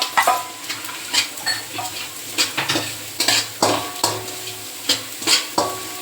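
Chopped onion dry-roasting in a hot pan is stirred with a spatula: regular close scrapes and clatters, about two each second, over a soft continuous sizzle, with no voices.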